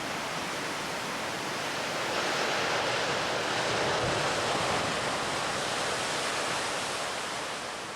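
Big ocean waves breaking at a big-wave surf event, a broad, continuous roar of surf that swells slightly in the middle and holds steady, with no voices.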